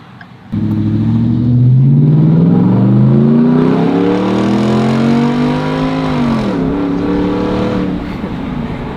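A modified truck's exhaust roars up close under hard acceleration, climbing steadily in pitch through a long pull and dipping briefly as it shifts before surging on.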